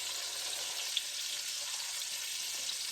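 Onions fry in a pan with a constant bright sizzle, steady and close, with a faint pop or two and no talking.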